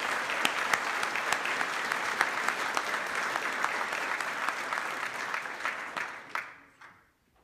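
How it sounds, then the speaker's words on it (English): Sustained audience applause fills a room at an aviation SAFECON 2019 awards banquet, a dense steady clatter of many hands that tapers off and fades into quiet near the end. "So can we give them a round of applause for"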